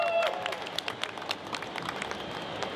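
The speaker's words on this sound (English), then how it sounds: "Give him a round of applause." A live event audience claps for a comics group editor who has just been introduced on stage, a short burst of scattered, moderately loud applause with a host's voice faintly present.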